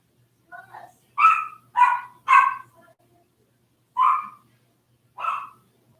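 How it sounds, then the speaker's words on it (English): A dog barks in a quiet room, about six sharp, close barks: a quick cluster of three, then two more spaced out after a pause. "When my dog is going crazy like that, something is definitely wrong."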